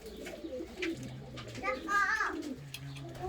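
Bulgarian bango pigeon cooing close by in a loft, soft low repeated coos broken by brief fluttery calls, with someone talking over them.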